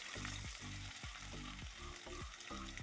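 Crushed ginger, garlic and 10-12 small shallots fry in a pan with a dense, close sizzle broken by rhythmic scraping stirs roughly every half second.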